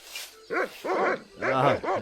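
Several barks from a dog in the Monkey Island 2 adventure game, four bursts spaced across two seconds, loud and close with no talk over them.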